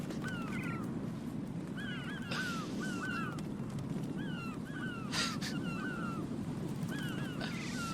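Seagulls calling in the video game Metal Gear Solid 2, short squawking cries repeating in loose clusters over a steady low ambient bed, with no talk.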